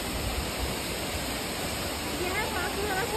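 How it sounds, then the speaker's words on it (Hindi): Vasudhara waterfall near Mana village in the Himalayas, a steady, dense rush of falling water heard close and constant, with faint voices briefly under the roar near the end. "इस झरने को समृद्धि और पवित्रता का प्रतीक माना जाता है।"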